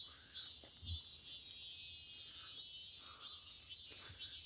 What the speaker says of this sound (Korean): 매미 소리 좋죠.